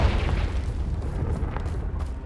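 A Confringo fire spell bursts in Hogwarts Legacy, a deep rumbling boom that rolls on steadily with a low, heavy roar and no voices.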